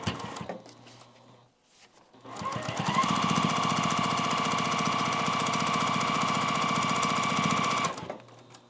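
A sewing machine stitches quilt pillow fabric: a brief stutter, then a loud, close, continuous whirring run of about five seconds with a rapid mechanical pulse that stops abruptly.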